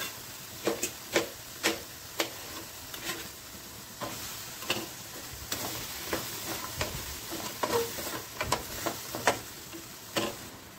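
Sliced okra stirred in a pan while cooking oil-free vendi masala, a steady run of soft clicking scrapes and taps over a faint, continuous background hiss.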